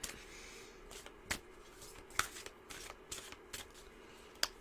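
Oracle cards being shuffled by hand, soft papery riffles and flicks coming in short irregular bursts, close and quiet against a faint hum.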